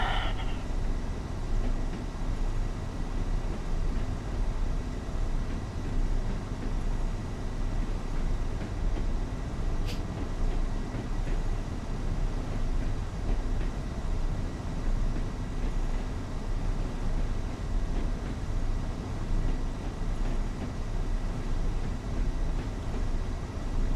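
A train in Train Sim World on the Tees Valley Line rumbles steadily along, dense continuous running noise from wheels and engine holding an even loudness throughout, with a brief sharp squeal midway.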